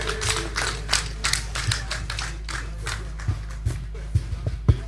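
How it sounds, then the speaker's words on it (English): A homecoming ceremony crowd claps in loose, uneven bursts, individual hand claps standing out against a steady low hum, with scattered taps and some background voices. "Let's clap for him again."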